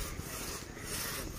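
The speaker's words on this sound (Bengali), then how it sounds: "গাছ ফাড়ার কাজ করতেছে।" Sawyers split tree timber by hand with a saw along a riverbank, producing a faint, continuous rasping scrape that lasts just over a second.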